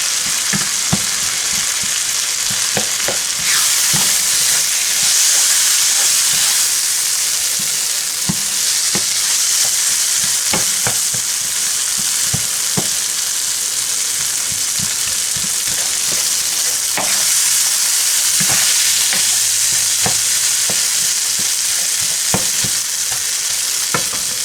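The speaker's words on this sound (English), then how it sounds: "we'll just add the beef here. Now this is one that's gonna heat through and break down" Canned corned beef sizzles steadily in a hot pan while a utensil stirs and scrapes through it, giving a loud continuous fry broken by repeated clicks and taps with no voices.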